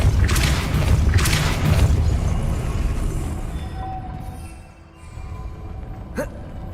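A Depulso force spell cast in Hogwarts Legacy lands as a pair of heavy booming blasts with rumbling low end, then fades into quieter ambience and a brief magical chime.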